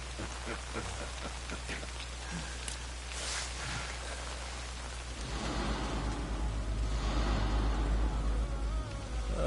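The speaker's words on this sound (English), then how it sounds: "Oh, it's raining." Rain falls steadily in the video game Lost Judgment, a dense hiss of drops on surfaces that swells heavier and louder in the second half, with no voices.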